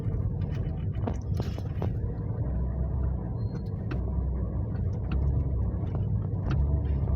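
A Toyota Vios with low power and heavy fuel consumption idles with a steady, low engine rumble, close and constant, with a few faint clicks and taps over it.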